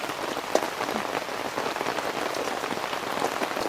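Heavy rain pouring outside, a dense, constant patter and hiss of drops on surfaces that holds steady and loud with no voices over it.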